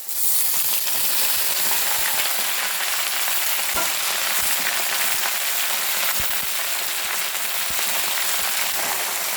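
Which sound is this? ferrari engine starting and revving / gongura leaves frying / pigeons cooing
gongura leaves frying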